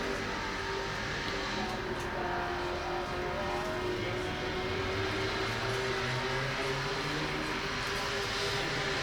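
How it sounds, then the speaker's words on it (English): Drift cars sit on the line at a British Drift Championship pro battle in Birmingham, warming their tyres with steady engine drone, revving and screeching heard from a distance, continuous and moderately loud. "as we see those guys warming their tyres up"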